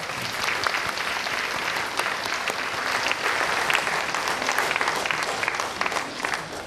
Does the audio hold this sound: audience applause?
yes